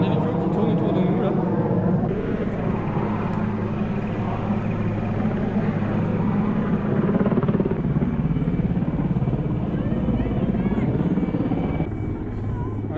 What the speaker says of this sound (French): il y a un hélico qui tourne autour de nous là